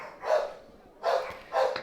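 A nearby dog barks three times, sharp and fairly loud, with short pauses between barks.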